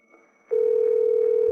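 An unanswered telephone call: after a brief faint murmur, a single steady electronic ring tone starts abruptly and holds at an even pitch and loudness.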